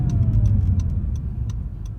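A 2020 Acura NSX in manual gearbox mode runs up an entrance ramp, a low steady engine drone heard from inside the cabin, with faint ticking clicks over it and no talking.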